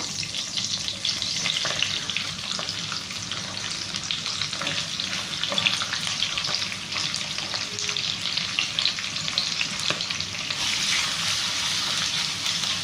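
Onions frying with cumin seeds in a pan for special rice, a dense, continuous close sizzle and crackle that stays loud and even throughout, with faint stirring and no talk.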